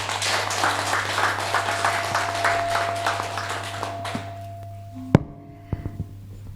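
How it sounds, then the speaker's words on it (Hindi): Audience clapping at an inauguration ceremony for district leprosy consultants in Odisha: steady rhythmic applause from a crowd over a constant low hum, fading out after about four seconds, followed by a few isolated taps and thuds. "तो जोर से ताली बजा दो सब लोगों के लिए"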